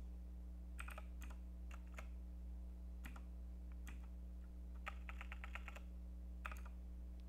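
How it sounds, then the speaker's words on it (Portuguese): Typing a router command on a computer keyboard, quiet clustered key clicks in short bursts over a steady electrical hum, with no one speaking. "Então vamos digitar aqui, ó, router"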